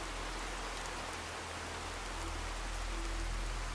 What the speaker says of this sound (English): I love how everything is soaking wet when it rains in this game.